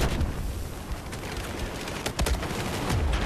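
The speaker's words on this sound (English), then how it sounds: "grenade's going off" Battlefield 4 battle din on Operation Metro with a grenade going off: rumbling booms and a sharp blast near the middle, set among continuous dense gunfire and explosion noise.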